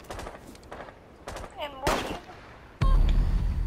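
Rapid pistol shots in a video game: a string of sharp cracks, then a heavier burst and a loud, sustained roar at the end.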